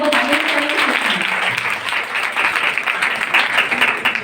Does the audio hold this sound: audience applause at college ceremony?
yes